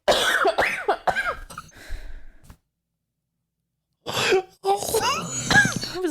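A coughing fit indoors, harsh repeated coughs and throat sounds mixed with breathy sighs and strained voice, close up, breaking off into silence before another burst of coughing and vocal noise.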